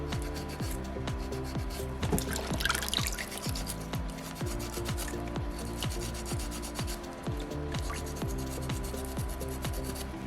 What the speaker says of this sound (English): So I'm starting to wear down my sandpaper right now because I'm working on a, not a super hard stone